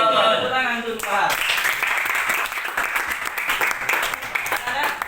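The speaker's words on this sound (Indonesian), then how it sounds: "Tepuk tangan untuk Pak." Schoolchildren in a classroom clapping for their teacher during a religious studies lesson, a brisk run of many small hands that starts after a brief bit of speech and continues fairly loud and uneven to the end.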